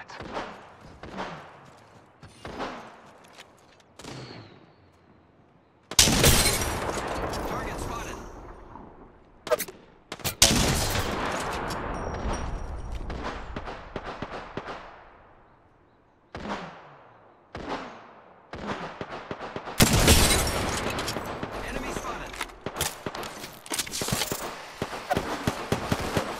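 Gunfire in Apex Legends, with rapid automatic bursts and single heavy shots coming in loud clusters, separated by short quiet gaps and trailing echoes. Some bursts sound close and dense, others thinner and more distant.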